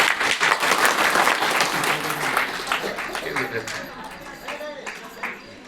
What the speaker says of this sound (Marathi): टाळ्या वाजवा, जोरदार टाळ्या वाजवा.